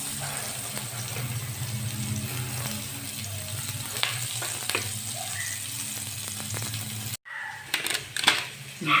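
Onion and garlic frying in a pan, a steady close sizzle with scattered crackles and light clinks, cut off abruptly near the end before a few louder knocks.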